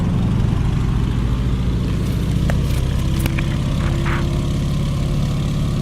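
A Stearman biplane engine in Microsoft Flight cranks and catches, settling into a loud, steady propeller drone with low rumbling throughout and a few faint clicks over it.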